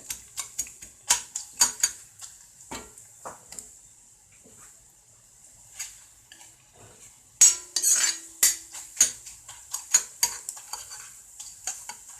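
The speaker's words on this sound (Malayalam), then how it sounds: "ഇഞ്ചിയും വറ്റൽമുളകും നന്നായി മൂപ്പ് മൂത്ത് വന്നിട്ടുണ്ട്" Ginger and dried red chillies fry in a pan for a quick mango pickle, with sharp spoon clinks and scrapes against the metal coming in bursts over a faint, thin sizzle.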